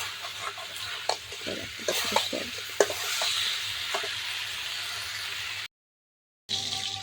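Meat curry being stirred and fried in a pan, with steady sizzling and scraping stir strokes and a few sharp clanks throughout, close and fairly loud, broken by a short silent gap near the end.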